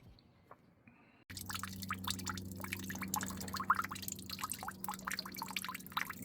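Coolant drains from the water pump of a BMW 335i with the N54 engine, starting abruptly as a steady close splashing trickle with scattered drips, continuing strongly after a quiet opening.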